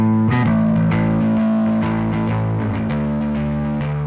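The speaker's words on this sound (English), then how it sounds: "you got kind of a nice tubey distortion" A bass line runs through the Quick Bass VST plugin with its tube saturation engaged, giving a loud, thick, warmly distorted tone with sustained gritty notes that shift pitch over several seconds.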